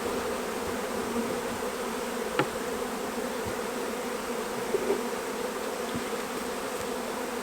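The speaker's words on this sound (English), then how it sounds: "We'll just brush these bees off." Honey bees buzz steadily as they are brushed off a clearer board during queen rearing at a hive, a dense, even hum throughout with a couple of faint brief knocks.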